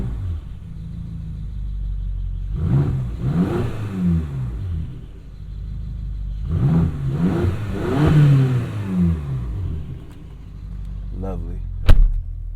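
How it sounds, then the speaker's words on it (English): BMW X5 M, about 15 years old with just under 95,000 miles, with Valvetronic engine starting and revving: two rising, rumbling rev swells close up inside the car, settling back to idle, with a sharp click at the end. "I want to see what that Valvetronic sound like."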